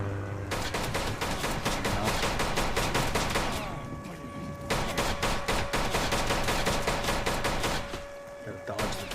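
Dense bursts of rapid gunfire rattle almost nonstop in a war video game while a bomber plane passes overhead. The volleys are loud and close, break off briefly near the middle, then resume.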